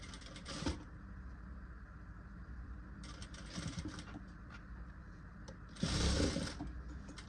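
A sewing machine stitches a katori-cut blouse with a collar neck in short bursts of rapid mechanical whirring. The bursts come three times, each close and moderately loud, with quieter handling noise between them and no talking.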